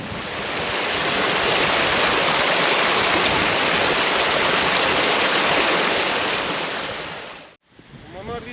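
Water rushes through Inca stone fountains and channels at Ollantaytambo, Peru, a loud, steady, close-up gushing roar that holds constant, then cuts out abruptly near the end before resuming.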